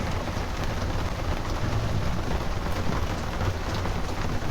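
Steady rain pours down around a golf cart on a drive in The Villages, Florida, a dense, even hiss with low rumbling underneath, continuous and close throughout, with no talking.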